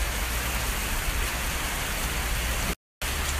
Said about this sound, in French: Il pleut des cordes.